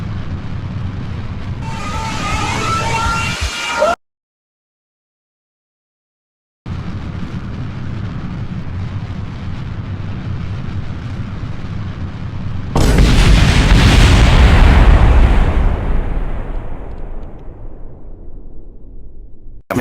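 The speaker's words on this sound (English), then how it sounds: "After adjusting the staging, this rocket would surely take off now." A rocket in the video game Kerbal Space Program roars through a sustained launch rumble, cuts to silence, rumbles again, then bursts into a loud, broad explosion that slowly fades away.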